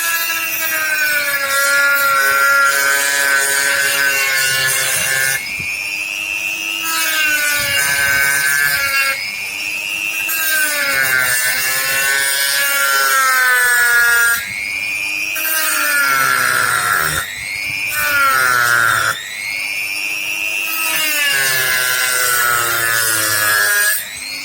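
A hand saw cutting along a marked line: a continuous shrill, rasping drone with squealing, wavering tones across long back-and-forth strokes, close and loud, with no speech.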